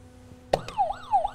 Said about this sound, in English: we've got our buzzers out.